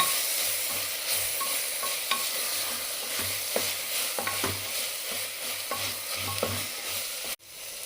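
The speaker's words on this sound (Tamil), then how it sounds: "இஞ்சி பூண்டு பேஸ்ட்டு போட்டுட்டு நல்லா வதக்கிடணும்." Ginger garlic paste sautéing in hot oil for a chicken curry gives a steady close sizzle, with intermittent stirring scrapes and soft knocks of a spoon against the pan throughout.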